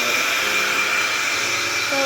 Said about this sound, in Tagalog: They show that blower.